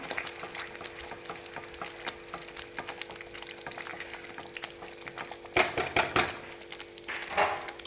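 Paneer gravy is stirred in a pan over a faint, steady sizzle, with soft scraping strokes of a spoon and a few louder clanks against the pan toward the end.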